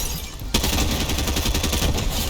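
Video game repeater rifle fire with explosions: a sudden loud blast followed by a rapid, dense run of shots and booms that continues steadily to the end.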